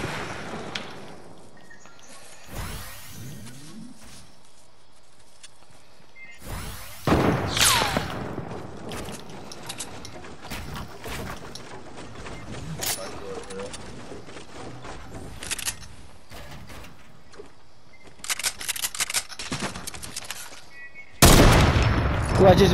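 Gunfire in Fortnite comes in scattered sharp shots and rapid bursts. Some are loud and close, others quieter, with pauses between them, while people talk over the action.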